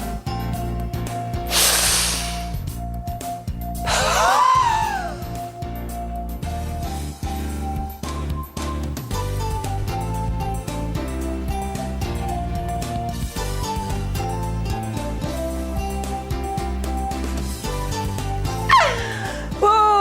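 Bodyflex breathing exercise: forceful breaths and sharp exhalations, with a couple of loud hissing gusts over steady background music and faint voice.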